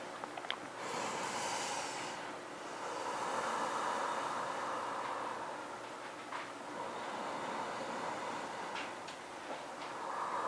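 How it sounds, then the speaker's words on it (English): Slow, deep breaths during a yoga session, soft airy inhales and exhales swelling and fading in long waves, close and steady with no talking. "Let's take another deep breath or so."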